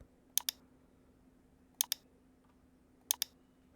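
Mouse clicks on the Outlook apps icon come as three crisp double-clicks spaced about 1.5 seconds apart, close and quiet over a faint steady electrical hum.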